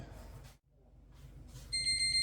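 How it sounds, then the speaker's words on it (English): A kitchen timer goes off in a home kitchen, its steady electronic beeping rising clearly near the end of a short stretch of quiet room noise. "Our timer's going off."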